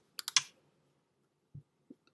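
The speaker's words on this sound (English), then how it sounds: "I can type that in my calculator and get a number" Small keys tapped on a calculator while working a scale-factor problem: three quick close clicks at the start, then a few softer scattered taps after a pause, otherwise quiet.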